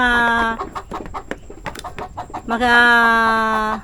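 Native farm chickens, hens near laying, give drawn-out tonal calls broken by a quick run of clucks, then another long call, all loud and close.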